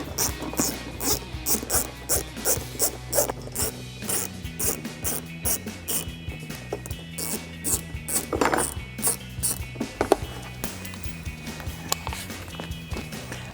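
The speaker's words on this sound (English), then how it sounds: "So I'm going to take my ratchet and 10 millimeter and remove these 4 bolts." Hand ratchet with a 10 mm socket backing out bolts on the front bumper of a 2014–2021 Toyota Tundra, giving fast repeated clicking bursts of pawl ratcheting, close and steady, with occasional metallic clinks and no talk.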